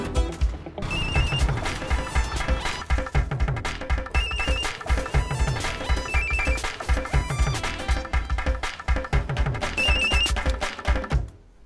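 A telephone bell rings in repeated bursts, a bright metallic trilling that recurs steadily over several seconds, with a few thumps and background sounds between rings.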